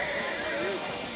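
A horse whinnies over a busy rodeo arena crowd and an announcer's voice, with hoofbeats clopping underneath.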